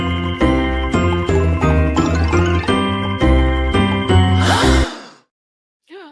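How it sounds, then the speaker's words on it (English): A podcast stinger jingle rings out as a bright chiming melody of bell-like tones in a quick rhythmic pattern. It ends in a crashing shimmer and then a short pause. "I'm still gonna play the stinger even though it's late"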